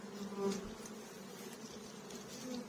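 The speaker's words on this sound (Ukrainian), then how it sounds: "Якийсь сукупний зльотний рій." A huge swarm of bees at an apiary fills the air with a steady, moderately faint buzzing drone, with individual bees passing closer now and then.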